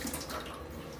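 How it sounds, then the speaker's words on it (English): Tap water runs into a sink while okra is rinsed, a brief soft steady splashing flow heard close by, with no talking. "Rinse your okra."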